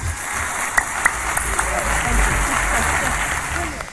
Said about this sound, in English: Please, a warm round of applause for Mr. Jacques Fresco.